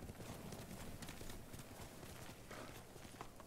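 Galloping horse hooves in Ghost of Tsushima, a quick, continuous clip-clop that stays fairly near and even in level, mixed into a busy wash of in-game ambience with no voice.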